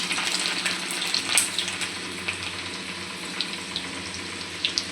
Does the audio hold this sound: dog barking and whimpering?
no